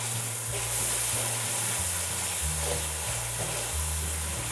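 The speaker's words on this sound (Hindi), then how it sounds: "साथ ही इसके 3 से 4 अदद टमाटर फ्रीज़ हुए हैं, वो इसके अंदर साथ ही डाल देंगे, ताकि ये भी अच्छी तरह गल सके।" Steady sizzling and frying from a chicken biryani pot as three or four frozen whole tomatoes go in, a continuous close hiss with a low hum underneath and no talking.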